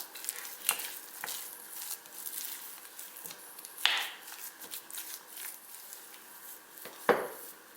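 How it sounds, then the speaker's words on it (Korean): Mashed sweet potato being stirred with mozzarella and sugar-free peanut butter, giving soft sticky squishes and scrapes with a few sharper knocks against the bowl. "이제 다 골고루 섞어주세요."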